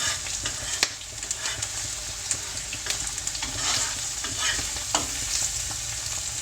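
Eggs fry in a pan with a steady hiss, broken by sharp spatters and pops scattered through the sizzle, close and fairly loud with no talking.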